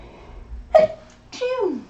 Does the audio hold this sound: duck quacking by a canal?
no